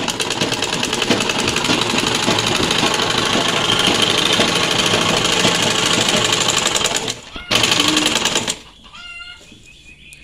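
A home-owned sewing machine stitches a net for the new rice harvest, running as a loud, steady mechanical rattle for about eight seconds before it cuts out, with quieter sounds after.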